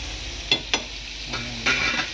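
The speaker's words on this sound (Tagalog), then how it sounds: "Na yung honey garlic chicken. Ito yung naabutan natin na niluluto niya sa kasalukuyan." Honey garlic chicken cooking in a pan: a low steady sizzle runs throughout, broken by a few sharp stirring scrapes and clanks, with no talking.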